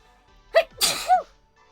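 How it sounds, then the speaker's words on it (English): A single close sneeze from a person during a nail-art session, with a sharp inhale leading into one loud burst and a short exhaled trailing sound, in an otherwise quiet room. "I need to sneeze again."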